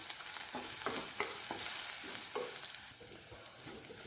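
Onion, curry leaves and ginger-garlic paste sautéing in a pan for a Kottayam-style fish curry, a steady close sizzle broken by scraping stirs at irregular intervals, with no talk.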